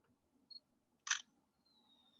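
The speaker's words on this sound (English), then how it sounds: "The shutter noise on this camera" A Panasonic G100 mirrorless camera fires its simulated electronic shutter sound, one short bright click-burst close by in a quiet room, preceded by a faint small beep.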